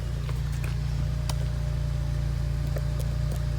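An Acura TSX fitted with a DNA Motoring cat-back exhaust idles with a deep, steady low rumble close to the listener, punctuated by a few faint ticks and clicks.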